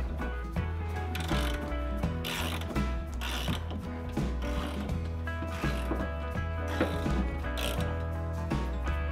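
A hand ratchet tightening subframe bushing bolts on a Lexus IS300 rear subframe, quick repeated mechanical clicking in steady bursts, close and fairly loud, with no talking.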